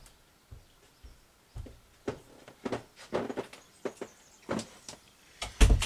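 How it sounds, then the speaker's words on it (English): An indoor room door is pushed shut with a string of soft, scattered knocks and clicks, ending in a louder close thud; no voices. "Can you close my door, please?"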